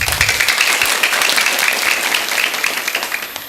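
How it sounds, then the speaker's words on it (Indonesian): Applause from an audience of schoolchildren and teachers after a school march song at an elementary school event, steady dense clapping that fades slightly toward the end, with no talk over it. "Tepuk tangan yang luar biasa"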